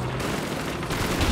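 Rapid gunfire in the World War II shooter Call of Duty 2 during a tank battle, a dense burst of automatic shots with loud battle noise, short and close.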